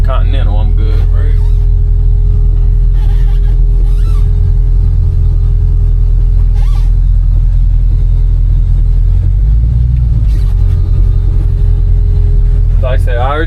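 A 1986 Chevy C10 truck with a 5.3 engine drives, its deep, loud rumble continuous and close throughout, with brief bursts of other noise over the top.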